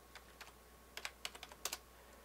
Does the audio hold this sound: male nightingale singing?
no